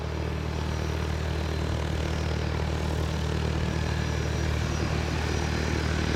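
Fixed-wing propeller airplane taxiing on the ground before takeoff, a steady, continuous engine drone at moderate distance that holds level throughout with no voices.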